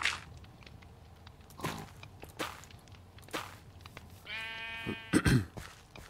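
Minecraft sheep bleat in short repeated wavering calls, one near and loud, amid soft in-game footsteps and a few sharp clicks, with no talking.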